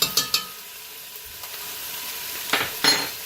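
Thai red curry paste frying in a pan, a steady hissing sizzle with a few sharp scraping strokes at the start and near the end as it is stirred.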